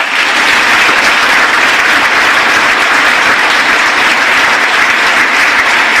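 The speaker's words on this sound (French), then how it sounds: "Donc on peut l'applaudir." Sustained, loud applause from an audience at a 2025 New Year's greetings awards ceremony, dense steady clapping filling the whole stretch with no voices over it.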